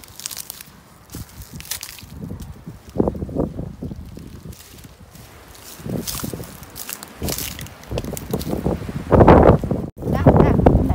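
Strong wind gusts buffet the microphone outdoors while wild vegetables are gathered ahead of rain, a rough continuous roar with rustling and surging bursts throughout.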